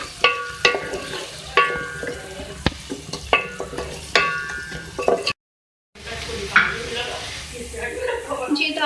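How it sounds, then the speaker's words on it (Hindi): Two medium onions frying in oil in a pan for chicken balti gosht, with a steady sizzle broken by repeated scraping stirs, then a brief drop to silence before the frying resumes. "मैंने ऑयल लिया है, इसमें 2 मीडियम साइज़ की प्याज ऐड कर रही हूँ। इसको जो है फ्राई करेंगे"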